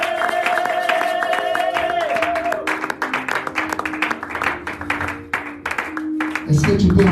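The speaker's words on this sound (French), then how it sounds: "Acclamez encore pour Jésus" A church congregation applauding and cheering for Jesus, with mixed clapping and crowd noise under sustained organ or keyboard tones and some voices across the whole stretch.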